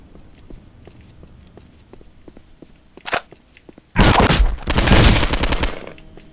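Gunshots in the video game Postal: quiet clicks and taps, a sharp lone crack at about three seconds, then a loud close burst of rapid firing lasting nearly two seconds.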